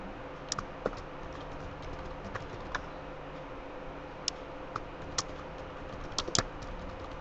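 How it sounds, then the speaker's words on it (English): Fingers tapping out an email address on a computer keyboard, soft scattered keystrokes at an irregular pace over a steady background hiss, with no talking. "So I type mine in."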